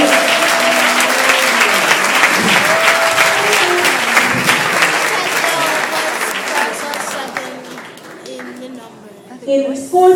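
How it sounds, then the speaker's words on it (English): Audience applauding steadily at an awards announcement for the top-scoring farms, loud and continuous, with a voice speaking over the clapping and the applause thinning near the end. "Please give them a round of applause."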